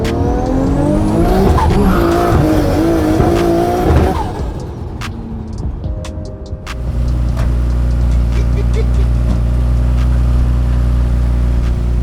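A 600 hp Lotus does a full second-gear burnout, its engine revving hard under loud, sustained tire squeal, then the engine note settles to a steady, close, deep drone.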